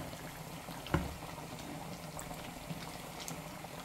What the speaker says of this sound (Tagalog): Kukuluan natin.